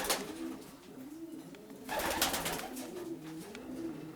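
Several pigeons coo in repeated low, rolling phrases in a breeding loft holding ten pairs, close by, with soft rustling and faint wing noise behind.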